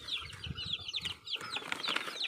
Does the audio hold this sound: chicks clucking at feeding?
yes